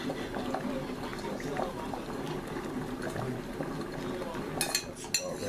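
A herbal healing salve of yarrow and plantain is stirred in a pot on the heat, with soft liquid swishing, bubbling and light scrapes and clinks of the utensil against the pot, while a person talks over it.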